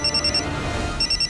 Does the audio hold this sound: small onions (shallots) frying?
no